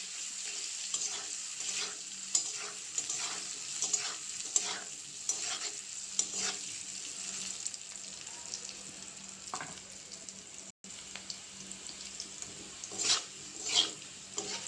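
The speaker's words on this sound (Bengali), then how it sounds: "আলুগুলো ভাজা হয়ে গেছে" Boiled potatoes fry in a kadai with turmeric and salt, a low steady sizzle broken by repeated close scraping strokes of a spatula as they are stirred, with no voices.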